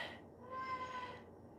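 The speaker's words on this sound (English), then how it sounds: "Kitty." A pet cat at home gives one drawn-out meow close by, rising and fading over about a second against a quiet room with faint background hum.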